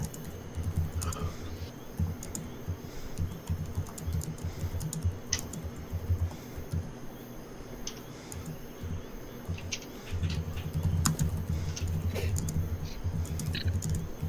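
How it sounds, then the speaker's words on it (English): Rapid, forceful keyboard typing with irregular bursts of sharp clicks and clacks, close up over a faint low background hum. "That angry typing."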